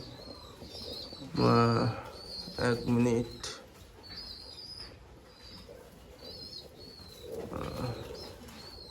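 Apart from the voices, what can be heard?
pigeons cooing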